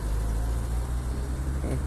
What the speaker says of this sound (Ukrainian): Їде, заїжджає машина.